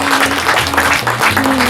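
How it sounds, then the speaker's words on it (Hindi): An audience applauds to welcome a guest onto the stage at a cultural program, steady dense clapping that fills the room, loud and sustained throughout. "आप तालियों बजा के स्वागत करिए।"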